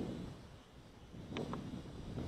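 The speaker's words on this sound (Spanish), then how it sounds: "Ha vuelto a soplar el aire, como estáis viendo. La verdad que bastante fuerte." Strong wind gusting over a microphone outdoors during a drone flight test, a continuous close low rumble with brief faint higher tones partway through.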